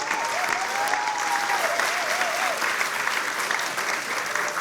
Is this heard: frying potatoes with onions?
no